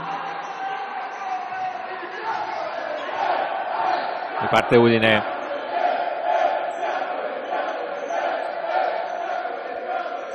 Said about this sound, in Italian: Caldissimo il tifo ospite, è arrivato qui a Milano in massa per sostenere la prima in classifica